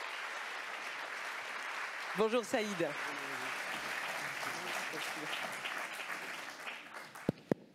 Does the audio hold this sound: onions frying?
no